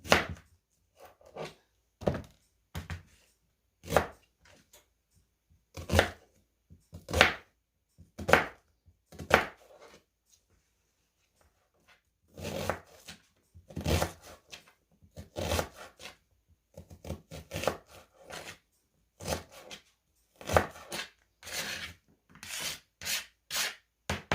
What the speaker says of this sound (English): Okay, I'll cut up some onion.